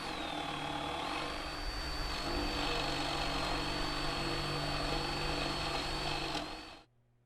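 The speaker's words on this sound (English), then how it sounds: "and we'll drill 2 3/4 inch holes," A power drill whines steadily for several seconds as it bores 3/4-inch holes into wood for a bee swarm trap, then winds down and stops.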